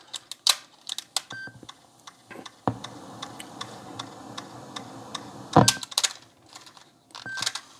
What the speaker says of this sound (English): That gear is causing all of these noise.